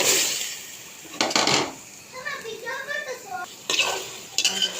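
Taro pieces (kochumukhi) are tipped into a pan and stirred, with loud scraping bursts of a spoon against the metal, and a soft sizzle of oil in between.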